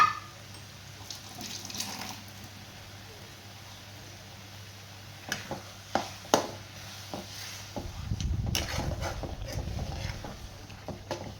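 After a few quiet knocks and clinks, tamarind water is poured into a pan with a soft gushing splash near the end.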